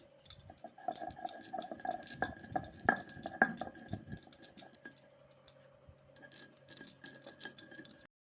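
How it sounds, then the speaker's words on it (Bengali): Spices being ground by hand on a stone shil-nora slab for elephant apple (chalta) chutney: hard, irregular clacks and scrapes of stone on stone, close and fairly quiet, with no one talking. "আমি শিলনোড়াতে গুঁড়ো করছি"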